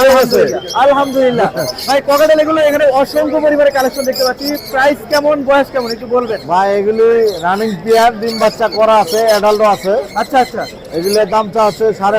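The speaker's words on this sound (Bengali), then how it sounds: "বিশাল ককারেল পাখির সংগ্রহ নিয়ে এসেছে" Loud, continuous calls and chirps from many caged cockatiels crowd together close by at a bird market, a busy chattering chorus with no pauses.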